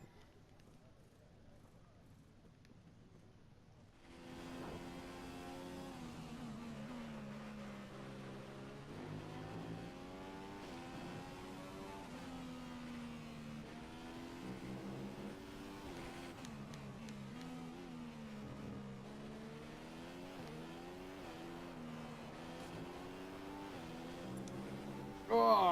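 In the F1 2015 racing video game, a Formula One car engine drones steadily with rising and falling pitch through gear changes, sustained under a player's talking.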